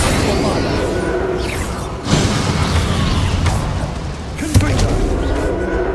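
Bombarda explosion spell from the Hogwarts Legacy video game, heard as two heavy booming blasts about two seconds apart over a dense rumbling battle soundscape with whooshing magic effects.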